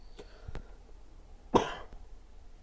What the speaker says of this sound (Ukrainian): Бачите, раптовий кашель